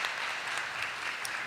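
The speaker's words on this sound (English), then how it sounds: "Round of applause for grade 3L." A crowd claps steadily in a dense, sustained round of applause at a school academic bowl, even in level throughout, with no talking over it.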